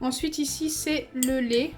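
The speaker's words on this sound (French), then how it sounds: "Je suis désolée pour le bruit de la cuillère." A metal spoon clinks and scrapes lightly against a glass holding milk and orbeez beads, small quick taps under a woman's close, continuous talking.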